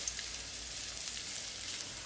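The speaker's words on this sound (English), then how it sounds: "it's starting to sizzle" A steady, hissing sizzle of swordfish searing in a hot pan, even and crackly, heard up close with no voices.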